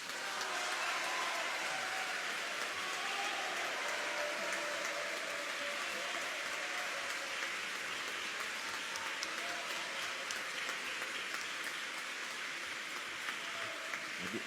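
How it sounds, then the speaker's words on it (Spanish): An audience applauds after a medical talk on ultrasound, a dense and sustained wash of clapping that holds steady from start to finish. "Aquí hay una verdadera guerra de aplausos."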